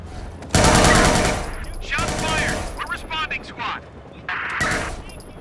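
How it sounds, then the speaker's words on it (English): Gunfire in a Watch Dogs 2 police shootout: loud, close bursts of automatic fire separated by short gaps, with shouted voices in between. "Shots fired!"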